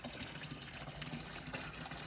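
Water gushes steadily into a 40,000 litre ring tank, a continuous close rushing and splashing flow that holds an even level throughout with no voices.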